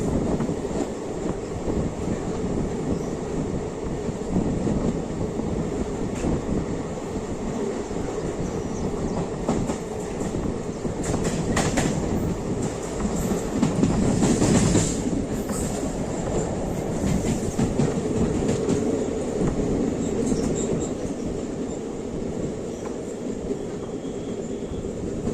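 A train runs steadily along the rails between Jammikunta and Kazipet, a continuous near rumble with wheel clatter and occasional faint squeals, loudest around the middle, with no talk over it.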